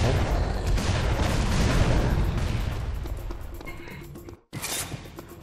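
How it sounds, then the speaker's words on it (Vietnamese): Explosions in the video game Serious Sam 3: BFE, a heavy sustained rumble of booms and blasts that slowly fades, then a short sharp burst near the end. "Đang nổ."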